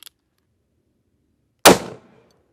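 A single sharp, loud gunshot from a Cimarron .44 Magnum revolver firing a Sierra 210-grain bullet into a gel block, a sudden blast that decays quickly, with a faint click just before and silence otherwise.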